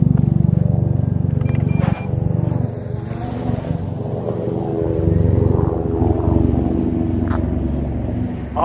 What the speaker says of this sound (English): Awesome quadcopter, man.